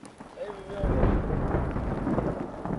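Steady rain pours down in Kenya with a dense hiss, rising in intensity after a quiet start, with low rumbling underneath.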